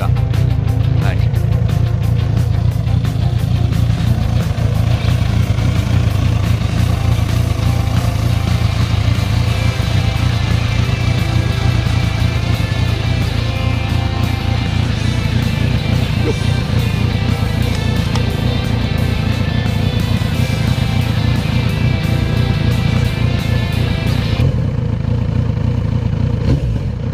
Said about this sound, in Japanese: ちょっとエンジンをかけていきたいと思います